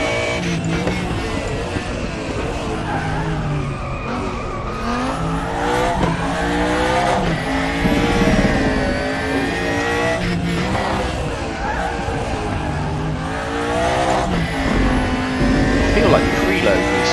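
An Audi DTM 92 race car in the Raceroom racing game revs hard through repeated rising and falling gear sweeps, with tire squeal and someone talking over the constant engine roar.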